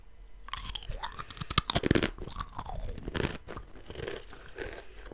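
Crisp, close crunching and chewing of thin, bright yellow fried banana chips, Peruvian snack, with repeated bites and a dense burst of crunches midway, no talking.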